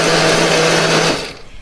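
A blender grinds shallots, candlenuts, garlic and chili with added water into a spice paste, a loud close whirring motor hum that runs steadily for about a second, then winds down and stops.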